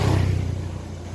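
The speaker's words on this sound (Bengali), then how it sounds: "গাড়ি কিভাবে বেপরোয়া চলে দেখেন," A car speeds past recklessly on a dark road at night, its engine roar loud and close at first, then fading as it pulls away.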